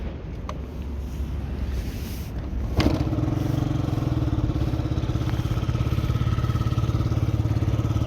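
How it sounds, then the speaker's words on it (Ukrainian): A sharp kick-start thump, then the small injected engine of a Yamaha Jog SA36 scooter catches and idles steadily with a fast, even putter close by. "Перевіримо заводку з кікстартера."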